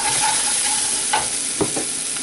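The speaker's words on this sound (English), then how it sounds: "Now I'll throw ginger garlic paste. Fry it for 2 to 3 minutes." Ginger garlic paste fries in hot oil with a loud, continuous sizzle and crackle, broken by a couple of short stirring scrapes.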